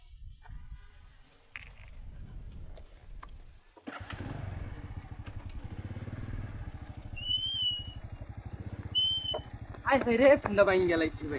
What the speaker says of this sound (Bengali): এখন আমরা এটার উপর দিয়ে বাইক চালিয়ে দিব